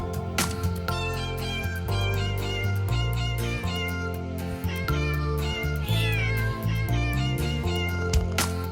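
Repeated cat meows sound within a bright, busy Kurdish children's song, the meows sitting on top of steady music and rhythm throughout.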